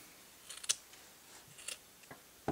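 Scissors trim yarn to shape a small pom-pom: three or four quiet, crisp snips at an uneven pace, set against a faint background hiss.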